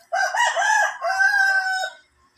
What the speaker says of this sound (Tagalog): Puro pula ang kanyang tandang.